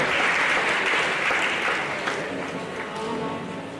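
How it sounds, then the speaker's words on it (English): An audience at a university induction ceremony applauds the Vice Chancellor with dense, sustained clapping that tapers slightly toward the end. "Please, another round of applause for our Vice Chancellor."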